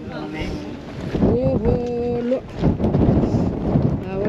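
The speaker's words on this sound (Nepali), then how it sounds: "हावाले चाहिँ हान्यो है दाइ" Strong wind buffeting the microphone on an open hilltop in Wales, a loud broadband rumble that rises and gusts throughout, with people talking over it.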